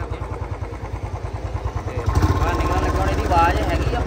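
A Royal Enfield Bullet motorcycle engine idling at a crowded festival, a steady rapid low thump close by, with a voice talking over it as background noise grows.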